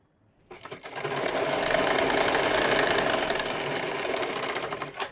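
A sewing machine runs one continuous, loud, even burst of about four and a half seconds while stitching a folded-over seam on a pant, starting abruptly and stopping at the end.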